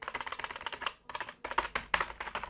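Typing on a cheap 25-euro semi-mechanical RGB gaming keyboard: rapid, crisp clattering keystrokes close up, with a brief pause before bursts of individual key presses resume.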